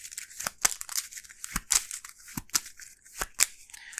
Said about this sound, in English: she has to shuffle her deck and draw a card